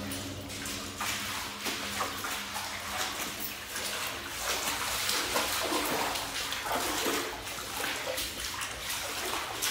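Water rushes through a dark tunnel in a continuous gushing, splashing flow that swells a little midway, with echoing spatter close by and no talking.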